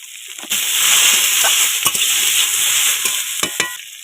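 Small pond shrimp sizzling steadily in oil in a pan, with several sharp scrapes and clinks of a utensil stirring them, close and loud.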